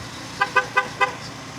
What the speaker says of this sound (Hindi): कंपनी जो देती है इतनी बड़ी बाइक में छोटू सा हॉर्न